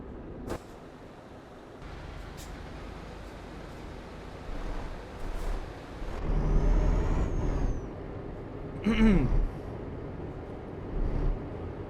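A Volvo truck in Euro Truck Simulator 2 on a mine road lets out several sharp air brake hisses and releases over steady engine rumble, with one louder burst near the end and quieter puffs between.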